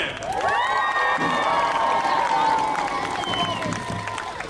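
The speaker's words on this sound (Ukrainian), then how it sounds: "Подякуємо їм великими оплесками!" A crowd gathered outdoors before the opera theatre for a UEFA Cup display cheers and applauds, with whoops, raised voices and shouting layered over scattered clapping throughout.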